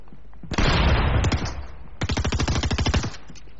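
Two bursts of rapid automatic gunfire, the first a dense roaring spray, the second a distinct stuttering run of about a dozen shots, loud and close.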